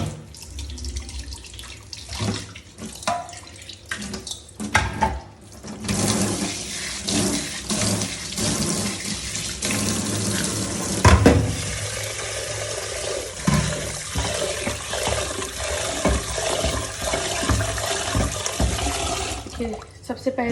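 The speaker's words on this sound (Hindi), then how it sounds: "सबसे पहले का प्रोसेस होता है दाल को अच्छे से 3 पानी से धो लेना।" Water runs from a tap into a kitchen sink while lentils (dal) are rinsed by hand, a steady splashing rush with clinks and sloshes, and someone speaks over part of it.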